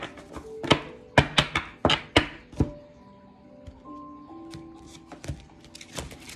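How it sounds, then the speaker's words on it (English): A deck of cards is shuffled by hand in a quiet room: a run of sharp riffles and thumps, several bursts close and distinct, then softer taps, with a faint tone humming underneath. "One more shuffle."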